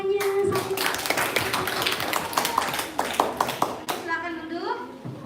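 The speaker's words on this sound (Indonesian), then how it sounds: "Ya, tepuk tangan semuanya." Children clap together in a classroom at an elementary school event in Bali, the claps coming as a dense burst of sharp taps mixed with young voices, an adult speaking over the start before the sound thins and fades.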